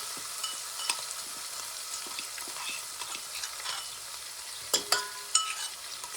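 Gujarati pav bhaji tempering sizzles in a pan, a soft, steady crackle broken by sharp spoon taps and scraping clinks near the end, heard close with no talking.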